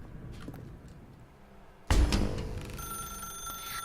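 A telephone in The Stanley Parable Ultra Deluxe suddenly starts ringing after a quiet stretch, bursting in loud and near, then continuing with bright repeated bell tones; no speech.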